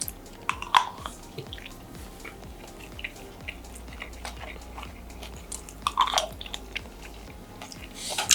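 Someone eating Sri Lankan chicken fried rice, heard as close, moist chewing and bites with occasional louder crunchy bursts, quiet and without talk.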